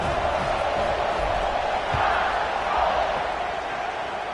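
Steady roar of a large stadium crowd in the College Football 26 video game, Alabama home game, a broad continuous wash of voices holding at a fairly loud level throughout.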